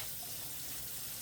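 Tap water runs into a sink over de-seeded chilies while they are rinsed, a soft, steady splashing hiss that stays even throughout and sounds faint and close.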